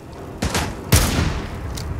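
Gunfire in the video game Fallout 4, two sharp close shots about half a second apart, the second louder and boomier, each trailing into a brief rumbling echo.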